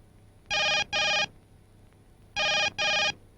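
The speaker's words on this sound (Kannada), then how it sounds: "ಬೆಳಗಿಂದ ರಿಂಗ್ ಆಗ್ತದೆ" A phone rings in two paired bursts, bright electronic trills close by and loud against a quiet room, with a brief silence between the pairs.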